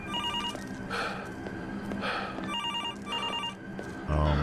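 In the Absinth video game, a phone rings with a run of electronic bell trills over a constant ambient drone, followed by a brief low thud at the end.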